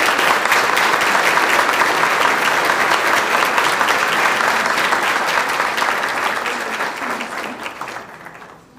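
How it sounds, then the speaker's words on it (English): A dinner audience at a scholarship event applauds elected officials, loud sustained clapping from a large crowd that stays steady and then fades out toward the end. "could you please stand and let's give them a round of applause"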